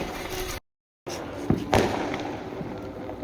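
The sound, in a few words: firecrackers bursting at Diwali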